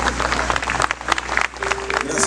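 Congregation applause at a Christian church sermon, a dense wash of clapping rising and falling over about two seconds, with voices and a low sustained tone underneath.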